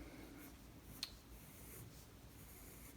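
A pencil draws a curved shape on paper as a beginner sketch is made, giving a faint, close, continuous soft scratching with one slightly sharper stroke and no talk.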